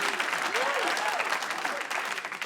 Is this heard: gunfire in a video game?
no